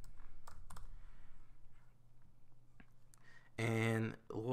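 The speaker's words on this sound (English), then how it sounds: "And then we're going to type text again." Sparse, faint clicks of typing text on a computer keyboard under a quiet room hum, followed by a short burst of nearby talk at the end.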